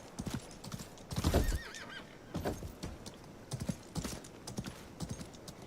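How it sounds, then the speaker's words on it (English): Horse hooves clip-clopping while riding in the Highguard video game, a quick uneven run of hoof clops with a horse's whinny early on, fairly quiet and without speech. "You can ride a horse?"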